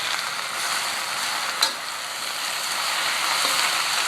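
Bok choy stir-frying with garlic in a hot pan, a steady loud sizzle and hiss with one brief clank of a utensil partway through, with no talking.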